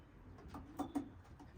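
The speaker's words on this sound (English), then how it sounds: "And Jimmy Lewis birds are in my coop today" Racing pigeons in a coop give a few soft, low coos, faint and close, spaced irregularly over a quiet background.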